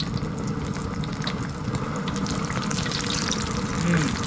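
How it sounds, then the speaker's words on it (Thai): Liquid rolling at a steady boil in a pot while preparing Chinese New Year offering food, a continuous bubbling, sizzling wash that holds even and close throughout, with a faint voice underneath. "นี่นะครับก็ให้เขาเดือดแบบนี้เลยนะครับ"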